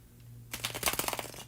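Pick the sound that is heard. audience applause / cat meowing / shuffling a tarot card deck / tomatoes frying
shuffling a tarot card deck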